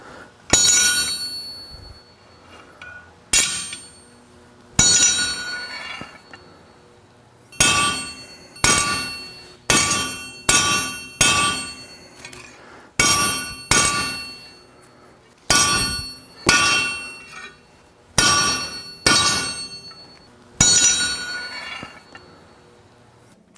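A heavy hammer strikes thick stainless steel in a workshop, about fifteen loud ringing metallic clangs, each decaying briefly, arriving in irregular clusters over more than twenty seconds.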